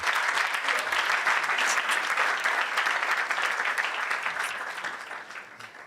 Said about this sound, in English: I think this performance deserves another round of applause, please